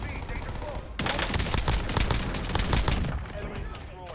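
Shotgun gunfire in Warzone: a dense stretch of rapid, loud shots and gunfire from several weapons lasting a couple of seconds, set against a constant background of game noise.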